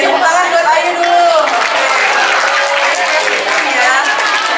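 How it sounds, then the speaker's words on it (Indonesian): An audience gives a round of applause for Ayu: dense, steady clapping with mixed crowd voices and chatter over it. "tepuk tangan buat Ayu dulu."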